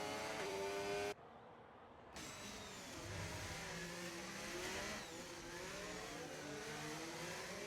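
A rally car in a WRC video game, its mid-pitched engine revving and straining steadily with a brief drop in level early on, loud and continuous with no voices.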